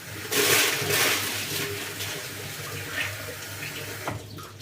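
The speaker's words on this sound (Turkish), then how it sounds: "Bunu güzel şöyle yıkayalım" Running tap water splashing steadily as food is rinsed under a kitchen faucet while preparing a dinner of chicken patties, broccoli and potatoes, fairly loud and continuous with no talk.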